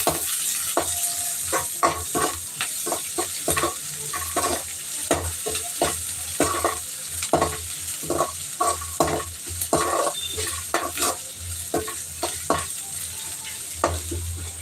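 Squid masala is mixed in a frying pan with a constant sizzle and repeated rhythmic scraping strokes of a spatula, close and fairly loud, with no talk.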